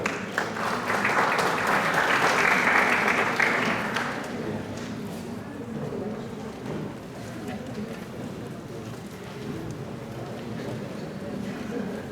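An audience applauds to welcome a doctor, loud clapping for about four seconds before it fades into a quieter room murmur.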